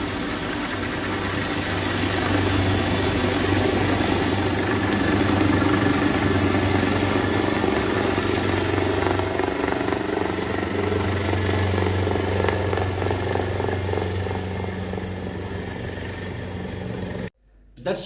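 Several helicopters used to evacuate ministers, a steady loud rotor drone and engine hum that holds throughout before cutting off abruptly near the end.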